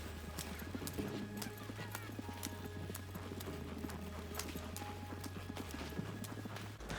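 A horse is ridden in Red Dead Redemption 2 Online, with steady rhythmic hoof clip-clops over a low droning music bed and ambient game sound throughout.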